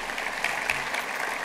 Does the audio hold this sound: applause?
yes